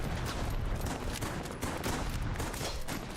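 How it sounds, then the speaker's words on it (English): Artillery fires continuously in a strategy video game replay, a dense, steady barrage of overlapping booms and cracks that never lets up, heard alone without talk. "Still firing off artillery."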